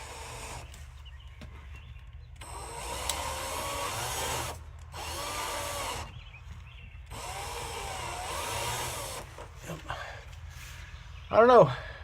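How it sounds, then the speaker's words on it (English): A power drill whirs in several separate bursts against a stripped screw, the motor running steadily for a second or two each time with short pauses between, close and moderately loud over a low background hum. "So I'm gonna put this on my drill, see if I can drill that out."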